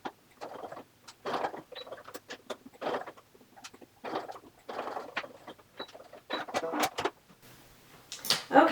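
Sewing machine stitching a small fabric chapstick holder, running in short bursts of rapid mechanical whirring broken by brief pauses, close and fairly loud, with a sharper burst near the end.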